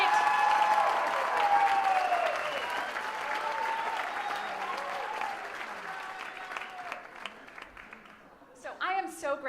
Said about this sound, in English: Can we get a round of applause for SVP's Director of Community Impact and your host this evening